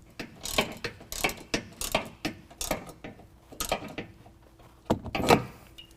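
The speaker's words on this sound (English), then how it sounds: "take a flat washer and the nylock nut from our kit, thread that into place, and go ahead and tighten this down using a 17mm on the top and the bottom" A ratchet wrench clicks in quick bursts while a 17mm nylock nut and flat washer are tightened on a 2020 Ram 2500 suspension leveling kit, with close, uneven ratcheting strokes and short pauses between them.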